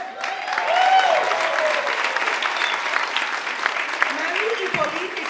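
A crowd applauds warmly at a Haitian-American community roundtable, a sustained roar of many hands clapping with voices and cheers rising through it, fading slightly toward the end.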